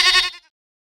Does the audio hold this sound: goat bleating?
yes